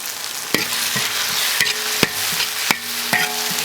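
Sichuan peppercorns and chili paste stir-fried together in a hot wok, giving a close sizzle with scraping spatula strokes at a steady rhythm over a few seconds, with no voices.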